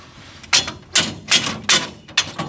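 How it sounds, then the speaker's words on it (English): A stick whacks a harvester part in five sharp, close knocks spaced about every half second, each a crisp hard strike. "I need a little whacking stick."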